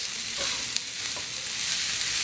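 Kimchi cheese fried rice stir-frying in a wok, packed with rice and aromatics: a loud continuous sizzle with a few quick scraping stirs over about two seconds, no voices.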